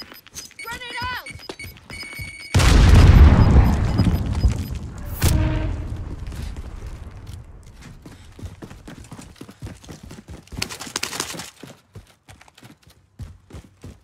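A heavy grenade blast bursts suddenly in Call of Duty Warzone, followed by a sharp crack and scattered gunshots and clatter, with game voice callouts heard before and around it.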